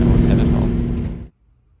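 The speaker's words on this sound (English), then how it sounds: "I thought this was a really cool shot of the GT going down the hill." Ford Mustang GT driving down a hill, heard as a loud, steady engine and road roar that holds for over a second, then cuts off abruptly into near silence.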